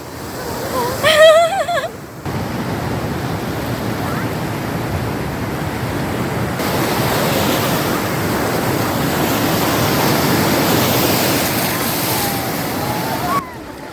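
Waves wash continuously onto the shore in a broad roar, with wind buffeting the microphone and a brief voice at the start.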